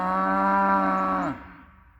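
A single loud, sustained cow moo from a nearby farm animal, holding steady for over a second before dropping off and fading into quiet outdoor background.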